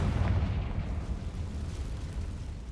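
A fire-blast spell explodes in a wizard video game, a dense rumbling burst that is loudest at the start and then decays into a long, low roar.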